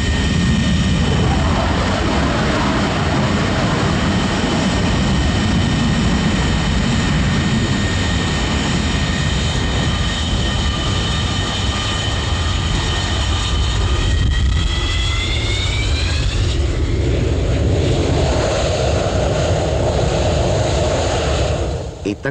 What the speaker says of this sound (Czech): motory pracují v režimu plné forsáže.